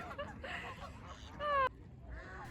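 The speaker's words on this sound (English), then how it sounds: "There were so many ducks and geese and pigeons there." Ducks and geese gather at Tingley Beach in Albuquerque, giving a short burst of honking and quacking calls, one loud nasal honk standing out among fainter calls nearby.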